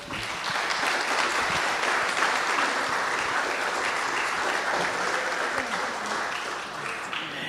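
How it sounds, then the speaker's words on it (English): Steady, full applause from a conference audience for MC Peter Robbins, dense clapping holding at a constant level for the whole stretch with a slight fade toward the end. "maybe we can give him a big round of applause this year"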